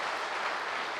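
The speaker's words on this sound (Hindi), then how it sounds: "हाँ बजाइए एक बार ताली।" Audience clapping in a lecture hall during a talk on sports and mindset, a steady, dense wash of many hands heard alone at moderate volume throughout.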